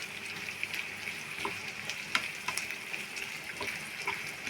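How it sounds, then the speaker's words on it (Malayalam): Curry leaves fry in hot oil for a garlic chicken roast, a steady soft sizzle with scattered small pops and crackles throughout, close and moderately quiet with no talking. "വേപ്പില, ഇത് നേരിയതായിട്ടൊന്ന് ഫ്രൈ ആവണം."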